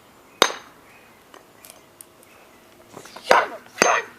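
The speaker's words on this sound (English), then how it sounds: "And grab that hammer and finish you off right" A hammer smashing a Rubik's Cube: one sharp plastic crack first, a few faint clicks after, then two louder crunching blows near the end, close by with no speech over them.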